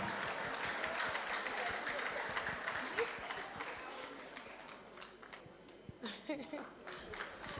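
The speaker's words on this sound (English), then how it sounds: "A round of applause for Ida Mendy." An audience at a Gambian awards ceremony applauds Actress of the Year Ida Mendy with steady, moderately distant clapping that thins out toward the end, with cheers and voices mixed in.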